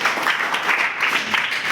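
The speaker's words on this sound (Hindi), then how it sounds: "जोरदार तालियां बलराम के लिए।" Classroom of students applauding a classmate named Balram, a dense, steady burst of clapping filling the whole moment without speech.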